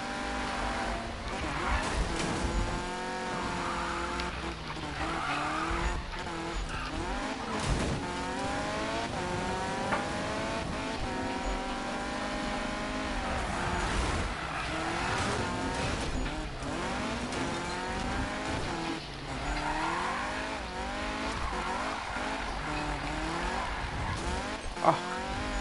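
A car drifting in the Need for Speed video game, with engine revs rising and falling in sweeping waves and tire squeal through long slides, continuous and loud with faint talk in places.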